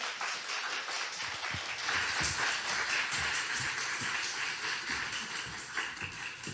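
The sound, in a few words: audience applause welcoming the pastor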